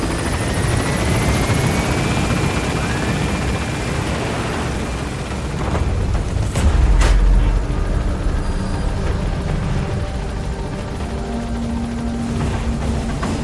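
A helicopter in Metal Gear Solid V: The Phantom Pain lifts off from a landing zone, its loud steady rotor and turbine drone close and continuous, with a brief deeper surge midway.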